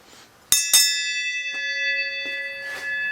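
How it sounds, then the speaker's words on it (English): A bell is struck twice in quick succession, loud and close, its bright metallic ring sustaining and slowly decaying over several seconds, with faint background noises underneath. "I'm going to ring the bell all by my lonesomes right here"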